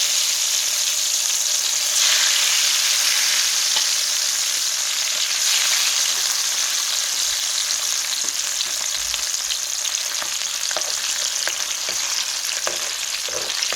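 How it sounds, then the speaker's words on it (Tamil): Sardine fish for a fish curry frying in hot oil in a pan, a loud, dense, unbroken crackling sizzle at close range, with occasional light clicks and pops and no voices. "குழம்பு மீன் வந்து டக்கண்டு பொறிஞ்சிடும்"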